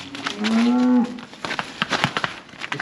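A Hereford cross cow in a pen gives one close, loud moo of about half a second, followed by clattering, knocking pen noises.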